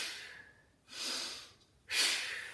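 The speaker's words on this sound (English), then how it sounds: "breathe out on the pull" Forceful exhalations through the mouth during a bent-over row done with heavy water bottles, three breathy rushes spaced about a second apart, close and fairly quiet with no talking.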